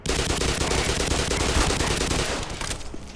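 Sustained automatic fire from an MP5 in Black Mesa, the remake of Half-Life: a loud, dense, continuous spray of gunshots for almost three seconds that fades out near the end, with no voices.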